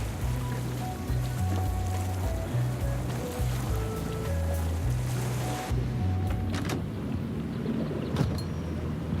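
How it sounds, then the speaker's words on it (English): Ship sailing on the sea in the Tales of Monkey Island video game, heard as a steady wash of waves and water under a looping low musical melody, with a few creaks and knocks near the end. "Set sail for the Jerkbait Islands, Mr. Winslow."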